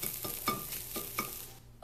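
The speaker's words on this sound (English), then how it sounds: "Habanero sauce is bubbling." Habanero sauce bubbles and sizzles in a pan, with soft popping and scraping stirs recurring in an uneven rhythm, close and moderately quiet.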